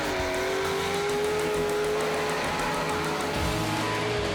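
A car doing a burnout at Summernats, its engine revving hard in a continuous loud roar with tyre noise, holding steady with no pauses across the whole stretch.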